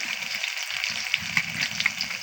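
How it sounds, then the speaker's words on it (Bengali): Chopped onions with green chillies frying in oil in a pan for spiced beef brain: a steady, dense sizzle with faint crackles. No voices. "পেঁয়াজটাকে আমি লাল করে নেব"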